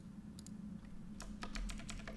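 Computer keyboard typing at a desk during code debugging: a short burst of quick, irregular key clicks, close and moderately loud, over a steady low electrical hum, with no speech.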